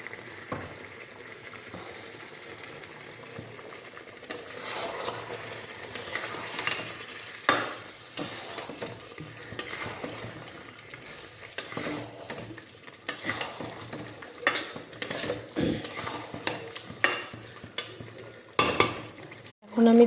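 Chicken being sautéed with a splash of water in a pan, stirred repeatedly: soft sizzling and bubbling under a series of scraping, clinking stirs, moderately close, with no talking.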